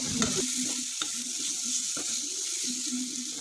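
Tomato masala frying in a pan for biryani, a constant hiss of sizzling oil with a low bubbling tone and a few distinct clicks of a spoon against the pan, close and fairly loud, no talking.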